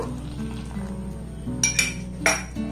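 A spoon stirs milk and custard powder in a pot, scraping steadily over a low, constant hum. A few brighter metallic clinks of the spoon against the pot stand out near the end.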